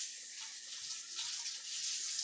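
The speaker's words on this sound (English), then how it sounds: "let me rinse my hands off real quick" Hands are rinsed under a running tap, a steady hissing rush of water close by that continues without a break.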